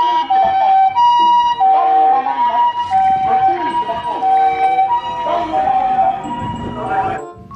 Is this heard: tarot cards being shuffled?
no